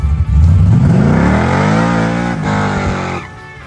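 A Chevrolet Malibu drag car at wide open throttle, its engine roaring up through the revs in one loud, close rising sweep before easing off near the end.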